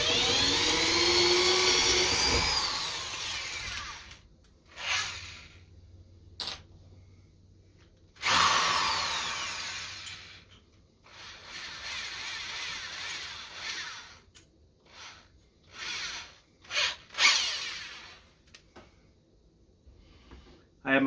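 A power drill bores a pilot hole in several short bursts that start, stop and rev again, with quiet gaps between them.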